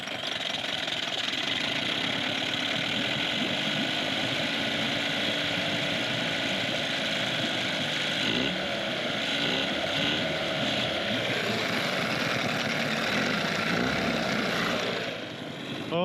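A used 1996 Johnson 9.9 outboard motor runs with the choke out while warming up, a continuous close engine drone holding steady for the whole stretch with no talking.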